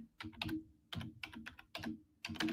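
Keys on a computer keyboard are typed in quick bursts, with short pauses between clusters of clicks, close and fairly loud with no talking.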